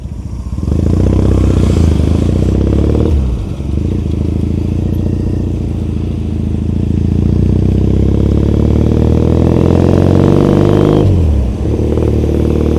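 Motorcycle riding through Tokyo streets toward Shibuya, its loud, close engine droning steadily with rising and falling revs, two brief dips where it eases off before pulling away again, no voices.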